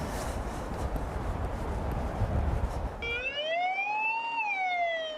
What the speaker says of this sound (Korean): 신고를 받은 소방차가 출동합니다.